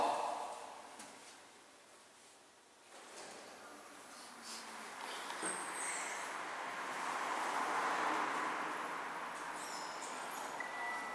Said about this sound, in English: This is the elevator at the Portadown train station.